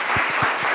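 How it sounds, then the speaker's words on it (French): Studio audience on a Christmas special TV show breaks into a short, dense burst of applause, loud and close. "On applaudit."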